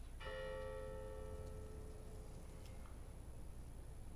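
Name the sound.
church bells being shot in video game Hitman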